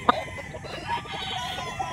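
Gamefowl stags at a game farm in Bustos, Bulacan, one sharp cluck near the start followed by steady low clucking and murmuring from several birds, fairly close, with no talk.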